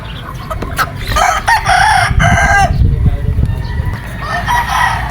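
A Golden Boy Sweater gamefowl rooster crows loudly and close, one drawn-out call with clucking and farm noise around it.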